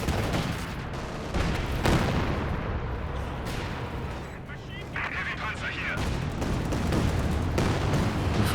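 Artillery barrage from the strategy game Company of Heroes 2 during a 2v2 match: dense, continuous rumbling blasts and crackling impacts fill the whole stretch, loud and layered, with a commentator's voice running underneath.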